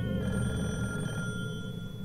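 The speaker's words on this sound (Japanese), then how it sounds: "黒電話だな。" A black rotary telephone rings inside the horror video game Calling, its bell tones sustained and fairly steady over a low rumble of game ambience, with no talking.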